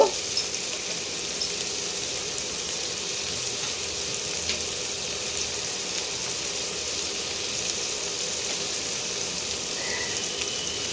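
Chopped onions sizzle in hot oil with a cinnamon stick, cardamom pods and cloves, a steady, even frying hiss that holds at close range for the whole stretch with no voices.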